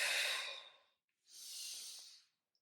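Slow meditation breathing, one long airy exhale fading out, a short pause, then a softer drawn breath, close and hushed with nothing else around.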